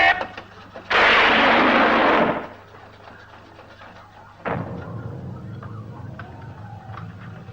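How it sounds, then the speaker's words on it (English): Dalek ray guns firing at full power from the animated Doctor Who serial, a loud roaring discharge burst lasting over a second, followed after a pause by a sharper second blast that fades into a low background hum. "The ray guns did not take effect."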